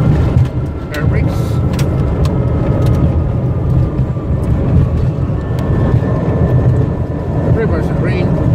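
Airliner rolling down the runway after a windy landing at Boston with reverse thrust engaged, a loud broad engine roar and rumble heard from the cockpit, with crew callouts and radio chatter over it.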